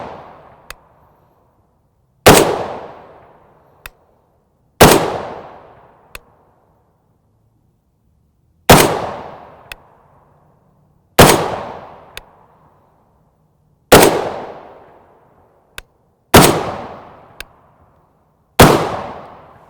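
Eight sharp, loud .308 Winchester rifle shots firing Wolf 150-grain FMJ rounds into ballistic gel, spaced a few seconds apart, each a hard crack followed by a quickly fading echo, with faint clicks of handling between shots and no talking.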